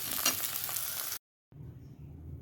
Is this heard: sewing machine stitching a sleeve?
no